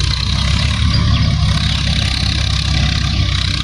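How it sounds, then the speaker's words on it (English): A tractor plowing a jute field, its engine a steady droning hum with a low rumble that holds at an even level throughout and never rises or falls. "you can see in front of a jute field a tractor is plowing the land"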